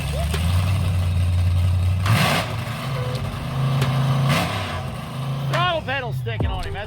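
A car engine with a sticking throttle pedal revs and drones loudly at an outdoor gathering, then drops away as people talk nearby and other sounds cut in.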